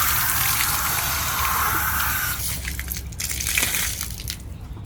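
Water from a garden hose sprays and gushes against the flange of an above-ground pool sand filter, a steady close hiss that shifts and spatters as the stream moves around.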